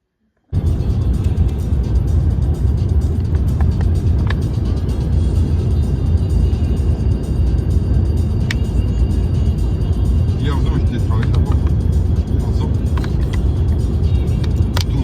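Car driving on the road heard from inside the cabin, a constant loud low rumble of engine and tyre noise that runs unbroken throughout.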